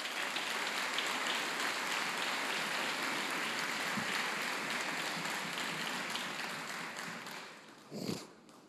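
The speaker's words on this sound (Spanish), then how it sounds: "y un aplauso para él," Sustained applause from a large audience at a Peruvian presidential address to the nation, dense and even clapping that fades toward the end, with a brief louder burst.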